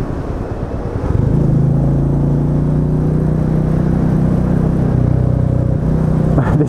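A Royal Enfield Meteor 350 motorcycle being ridden, its steady engine drone with a strong low harmonic hum settling in after a brief gear change, close and loud throughout with wind rumble.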